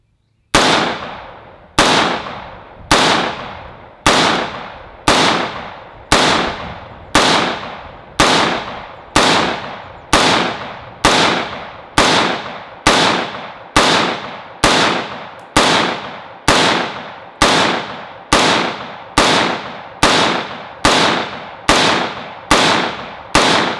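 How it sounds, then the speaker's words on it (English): A BCM 14.5-inch SOCOM rifle fires thirty rounds as single shots, each a loud, sharp crack with a decaying echo, spaced at a steady pace of roughly one shot every second outdoors, with no talking. "all 30 rounds fired with no issues whatsoever"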